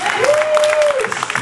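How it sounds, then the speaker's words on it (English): Congregation clapping hands during an energetic church sermon, steady dense clapping with shouts and voices mixed in, fairly loud and close, with a sustained sung or called tone briefly riding over it. "Somebody clap your hands."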